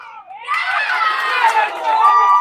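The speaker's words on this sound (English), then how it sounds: "crowd is very loud. It's rowdy out here." A loud, rowdy crowd of fans cheers and shouts together at a college baseball game between Ventura and Allan Hancock, a dense swelling roar that holds steady throughout.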